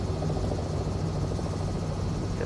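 Robinson R66 helicopter engine in Microsoft Flight Simulator 2020 near Sydney, a steady loud turbine drone with rapid rotor chop pulsing evenly underneath, constant and close, with no voices.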